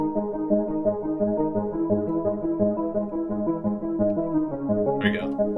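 A Serum synth patch built on a cello string wavetable plays a sustained, rhythmically pulsing chord progression, warm and string-like, close and steady with a small bright blip near the end.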